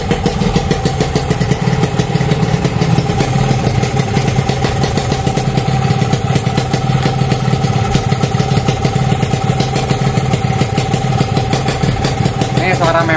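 A motorcycle engine idling close by after its carburetor membrane was adjusted, a loud, continuous rapid chugging that wavers up and down in speed, with a voice talking faintly in the background.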